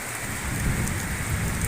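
Heavy rain pours down in Indonesia near a road junction, a dense, continuous hiss of drops on surfaces with a low rumbling undertone, steady and close throughout with no voices.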